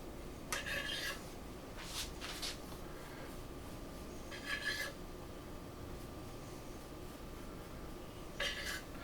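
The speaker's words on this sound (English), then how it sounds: "slowly slice and let the knife go down" A knife slowly slicing through rolled cinnamon roll dough, a few soft rasping strokes in separate bursts over a quiet background, close and faint, no talking.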